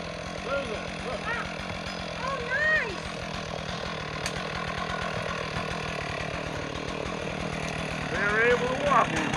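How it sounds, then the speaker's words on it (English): A Stihl chainsaw with a 36-inch bar runs steadily, a buzzing two-stroke engine close by that holds a rough idle throughout, while people talk over it. "You gotta start the chainsaw anyways."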